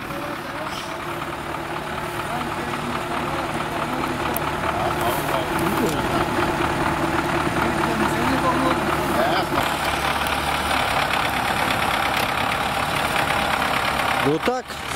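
A heavy diesel MTZ Belarus 920.4 tractor engine idles steadily nearby with a low, rumbling throb, running continuously, while faint voices occasionally sound over it.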